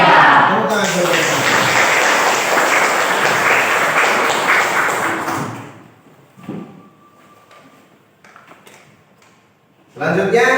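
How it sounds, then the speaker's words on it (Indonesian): Students at an Indonesian school assembly get loud, dense applause for about five seconds after a voice opens it. The clapping then stops abruptly, leaving quieter thumps and light movement, and applause swells again at the very end. "Tepuk tangan buat mereka"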